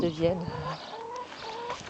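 Year-old hens cluck and murmur softly in a series of short, uneven calls, close and fairly quiet over steady background noise.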